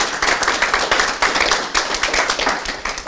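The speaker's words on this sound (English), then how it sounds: "a big round of applause for Royal Holloway as well" An audience claps through a round of applause at a business scenario-planning event, many hands giving a dense, steady, fairly loud patter with no voices over it.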